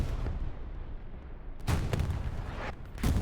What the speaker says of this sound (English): Bombing run, diagonal.